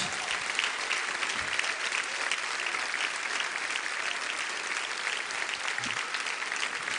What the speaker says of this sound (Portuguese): Vamos aplaudi-los enquanto eles saem, irmãos